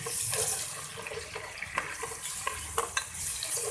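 Ginger-garlic paste sautéing with onions in a pan during a mixed vegetable recipe with carrots, peas and potatoes, a steady close sizzle with scraping stirs and small pops throughout, no voices.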